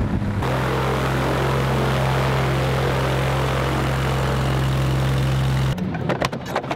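A small airplane taxiing in to park at Sebring, its propeller engine droning loudly and steadily with a strong low hum, then cutting off abruptly near the end, leaving a few faint clicks and rustles.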